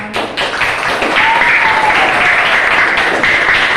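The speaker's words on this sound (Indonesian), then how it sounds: "Tepuk tangan semuanya." Loud, dense applause from a classroom audience fills the whole stretch without a break, with a faint whistle-like tone drifting through the middle.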